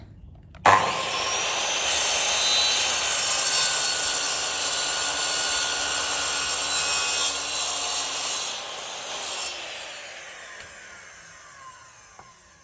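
An old power saw blade bites into wood with a loud, sustained whine that runs for about nine seconds before winding down and trailing off.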